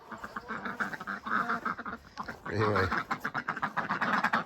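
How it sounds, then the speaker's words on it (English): Ducks quacking near a chicken coop on a frosty morning, a short run of nasal quacks close by in the middle, with a person talking before and after. "Ducks are out and about."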